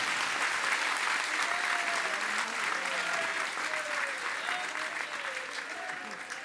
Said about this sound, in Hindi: बजाओ ताली एक बार।